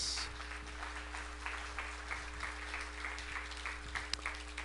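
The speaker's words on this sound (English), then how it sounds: "how about a nice round of applause, nice warm welcome to Dr. Lawrence Kuznetz" Faint, steady applause from an audience welcoming a NASA speaker, a dense even patter of many hands at a distance over a low hum.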